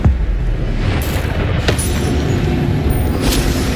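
Spell blasts from Hogwarts Legacy go off as deep, rumbling booms, loud and close, with sharp crackling bursts layered over a continuous low roar.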